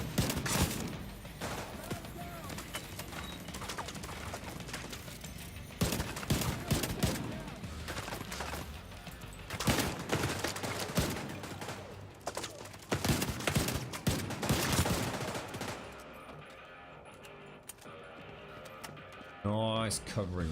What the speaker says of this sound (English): Nice covering fire, sir.